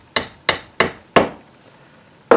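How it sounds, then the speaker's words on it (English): A hammer taps a small piece of 1/8-inch wooden dowel into a hole while building a tensegrity floating table. Four sharp, evenly spaced knocks are followed by a pause and then a fifth tap. "take a hammer and just tap that in"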